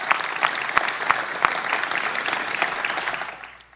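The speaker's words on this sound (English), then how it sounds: "Please give them a great round of applause." Dense audience applause at a Phoenix Suns press announcement, loud sustained clapping from a crowd with a few sharper claps standing out, fading toward the end.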